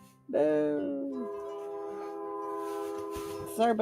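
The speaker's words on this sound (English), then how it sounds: "Sorry about the train, guys." A passing train sounds its horn in one long, loud, sustained blast that holds steady for several seconds, then a brief rumble follows at the end.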